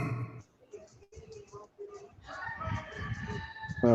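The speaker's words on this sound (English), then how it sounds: "the rooster is not on my side, just to let you know" A rooster crows in the background of a podcast call, its drawn-out call rising toward the end of the clip amid room noise, with no clear speech over it.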